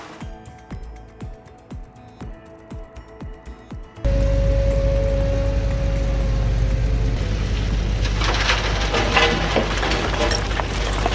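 WL500 German-built shredder with a 30-kilowatt drive and precision rotor knives, first a rhythmic ticking clatter, then a loud dense roar of wood being chipped that stays steady, with crackling splinters toward the end.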